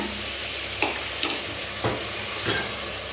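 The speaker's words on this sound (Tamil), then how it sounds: "அப்படியே அந்த இதுலேயே வதக்கிட்டு இருக்கோம்." Village country chicken curry sautés in a pan with a continuous sizzle, interrupted by a few scraping strokes as it is stirred, with no talk.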